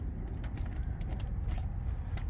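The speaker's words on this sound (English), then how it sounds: "there are just too many keys, so figuring out which is a pain sometimes" A large bunch of keys jangling and clinking continuously while someone sorts through them for the right one at a generator's locked cover, close and busy over a low rumbling background.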